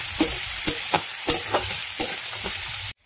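Ingredients for poha frying in a pan until golden brown, with a steady sizzle and rhythmic stirring strokes about every half second, close and fairly loud, ending in abrupt silence.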